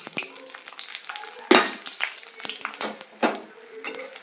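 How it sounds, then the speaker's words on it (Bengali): Dry red chilli, bay leaf, cardamom, cinnamon, clove and cumin hit hot oil for a Bengali moyda dish: a crackling sizzle jumps up sharply, then keeps spitting and popping with a few stirring clinks, close and with no voices. "ফোড়নে দেব শুকনো লঙ্কা তেজপাতা একটু গরম মশলা এলাচ দারচিনি লবঙ্গ আর একটু জিরে ফোড়নটা দিয়ে দেবো"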